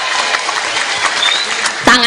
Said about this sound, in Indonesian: Tepuk tangan dulu untuk Abil.